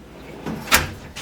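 Cabinet drawers in a mobile test trailer slide and knock shut in a couple of short, close wooden thumps and rolling bumps over quiet room tone.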